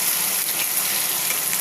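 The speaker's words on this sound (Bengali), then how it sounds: "মশলা ভাজা হয়ে গেছে" Garlic and cumin paste sizzles steadily in hot oil in a pan for a katla fish bhuna, a dense, even crackle with no voices.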